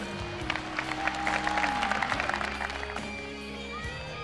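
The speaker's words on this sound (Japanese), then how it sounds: "石原さんにサポーターからは大きな拍手が送られ" Football supporters in a stadium applaud retiring Ventforet Kofu player Katsuya Ishihara at his farewell match, a dense, steady wash of clapping and crowd noise under a low hum, with a voice talking over it.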